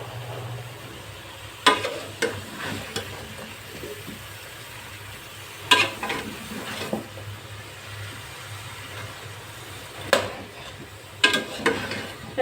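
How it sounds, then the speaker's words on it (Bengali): Bottle gourd is stirred and fried in a pan over a low sizzle, with several sharp spatula scrapes and knocks against the pan at irregular intervals. "লাউটা ভালো করে নেড়ে চেড়ে ঢাকা দিয়ে দিব কষানোর জন্য"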